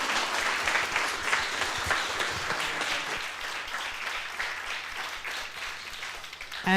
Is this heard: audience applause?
yes